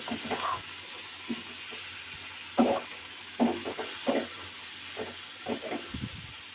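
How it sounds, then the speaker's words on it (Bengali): Paneer butter masala being stirred in a hot pan, with a faint steady sizzle under a string of soft scraping and clinking spoon strokes that come in irregular bursts, close and quiet, with no talk. "এবার আমি একটা একটু নাড়িয়ে দেবো।"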